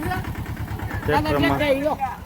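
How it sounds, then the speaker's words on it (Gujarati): A tractor engine on a farm runs with a steady low, rhythmic pulsing throughout, close by, while someone talks over it for most of the clip. "ટ્રેક્ટર આવી ગયું છે."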